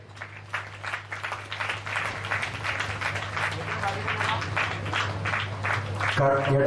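A parish meeting audience at a church gathering claps together in a sustained burst of dense applause, with a voice speaking over part of it.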